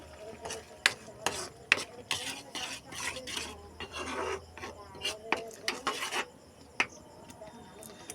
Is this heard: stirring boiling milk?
yes